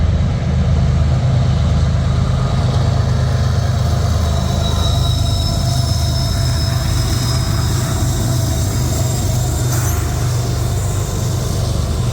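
Train rolling through Moncton's Gordon Yard near Barry Mills, New Brunswick, a steady loud rumble of railcars and wheels on track with high metallic squeals and ringing tones above, continuous and close.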